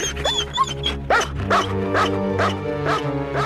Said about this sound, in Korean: 실종자를 찾으면 끊임없이 짖는 것으로 임무 완수를 알린다